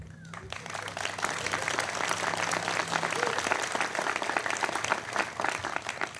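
An audience at a Gainesville, Florida city commission special meeting breaks into applause: full, continuous clapping from a roomful of people that swells and holds steadily, with faint voices mixed into the crowd.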